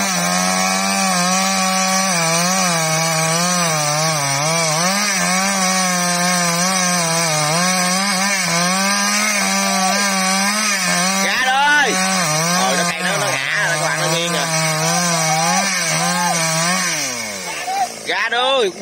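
A chainsaw drones loudly and continuously, its pitch wavering as it bites into the trunk of an old mango tree in mountain country, with the engine revving near the end.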